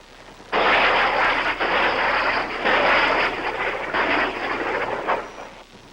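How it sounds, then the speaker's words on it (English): South Vietnamese helicopter gunships circle overhead during fighting along the Saigon River, a loud steady rotor and engine roar that starts abruptly and pulses in slow waves for several seconds. "Above them, South Vietnamese helicopter gunships circle and fling down their salvo of rockets."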